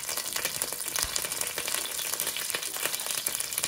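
Curry leaves drop into hot oil already used once for deep frying, filling the scene with a steady, close, crackling sizzle that spits and pops continuously without any voices.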